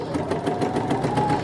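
A sewing machine stitches a bodice seam for a McCalls 8009 dress, a brief close run of rapid, even needle clatter.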